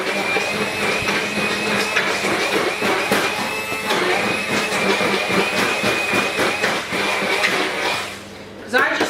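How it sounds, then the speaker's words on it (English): A hand blender buzzes and whines as it purees ripe bananas for banana bread, running continuously close by with a person talking over it before it cuts out near the end. "But I'm just going to blend them up."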